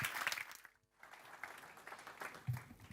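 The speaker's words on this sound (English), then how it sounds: "Ladies and gentlemen, a round of applause," Audience applause at a European energy-grid conference session, a steady wash of clapping from a crowd that dips briefly then swells again.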